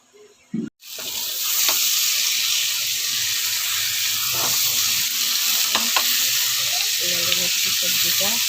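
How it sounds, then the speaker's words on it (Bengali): Vegetables, pumpkin and Malabar spinach, frying in a pan while being stirred; a steady close sizzle runs throughout, broken by scraping stirring strokes, after a brief faint voice at the very start. "ভালো করে নাড়িয়ে নিচ্ছি সবজিটা"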